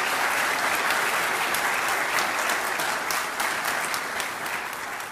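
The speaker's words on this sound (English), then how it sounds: "So I'd like to hear a round of applause for these people there." Audience at a church gathering applauding, a dense sustained round of clapping from a crowd, loud and close, holding steady for several seconds before easing slightly at the end.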